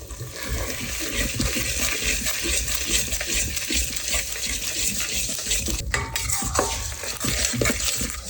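Freshly made masala with plenty of byadgi chillies being stirred in a frying pan for misal pav, a continuous close sizzle with repeated scraping and rattling of the spoon against the pan, no talking.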